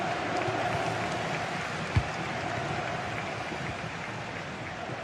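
Stadium crowd noise from a Gran Turismo Sport league broadcast, a steady wash of distant cheering and murmur with one brief thump, continuous and moderately faint throughout.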